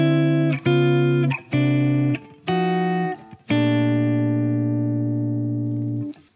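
Jazz guitar chords comped gently in a turnaround: five short, clean strummed chords in a loose rhythm, then a final chord left to ring out and slowly fade.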